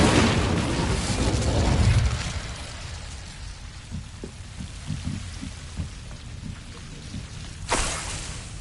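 An Incendio fire spell cast in Hogwarts Legacy opens with a loud fiery whoosh. Crackling flames settle and fade, then a second brief flare comes near the end.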